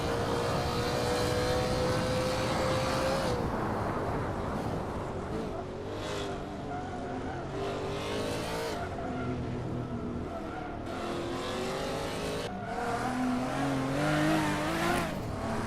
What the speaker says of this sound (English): I'm trying to talk over Danny's car because it's so much louder than many of the other ones